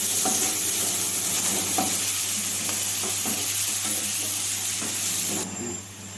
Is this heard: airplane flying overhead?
no